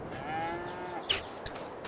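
Cattle in a farming video game, a mix of Holstein, Brown Swiss, Limousin and Angus cows, low and fairly faint, with a soft moo rising amid a quiet farmyard background and a brief sharper call near the end.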